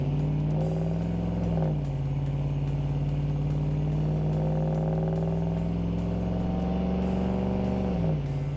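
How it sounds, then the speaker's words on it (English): A Dodge Ram 1500 pickup on a test drive after a transmission fluid and filter change, its engine a steady close drone that dips briefly as it shifts, with no voices over the continuous road noise. "Took the rig out for a quick test drive and everything felt great."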